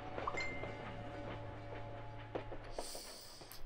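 Train at a Paris depot in the video game Valiant Hearts, heard as a quiet, steady rolling rumble with a low hum and faint periodic clicks, plus a brief high hiss near the end.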